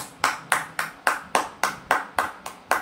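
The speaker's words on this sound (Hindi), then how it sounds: "तो मैं चाहूँगा एक बार मेरे साथ एक जोरदार तालियां बजाइए।" Ten sharp, evenly spaced claps ring out in a quick, steady rhythm, each one crisp and close, with no talking.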